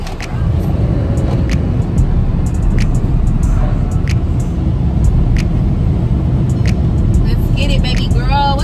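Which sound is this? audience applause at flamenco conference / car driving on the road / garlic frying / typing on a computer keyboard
car driving on the road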